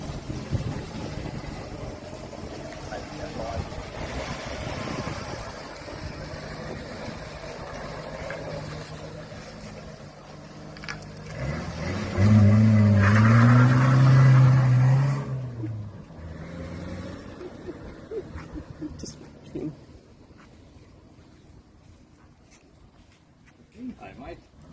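A Datsun 1000 car on its first test drive after being found in a shed, engine rumbling steadily throughout and swelling into a louder revving burst midway before settling back, with people talking over it.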